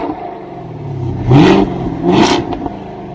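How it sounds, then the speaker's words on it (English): Sixth-generation Chevy Camaro V8 engine revving, two sharp throttle blips a second apart that rise and fall over a steady idle rumble, heard close and loud. "It is a freaking roaring V8"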